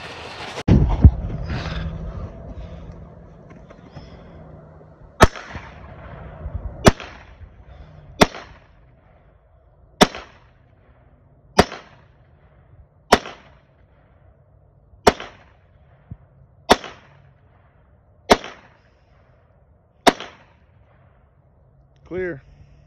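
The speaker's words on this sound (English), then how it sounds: "we're gonna load some more ammo and we're gonna get back to shooting." Gunshots ring out at outdoor target shooting practice, with about a dozen loud, sharp cracks spaced one to two seconds apart after a brief stretch of talk and handling noise.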